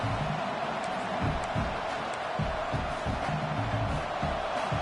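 Stadium crowd at a football game, a steady broad roar that fills the clip from start to finish, with a sports commentator's voice talking over it.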